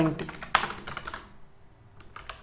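Rapid clicks of typing on a computer keyboard while coding in JavaScript, close and crisp, with someone speaking over the first part before the keystrokes continue more sparsely.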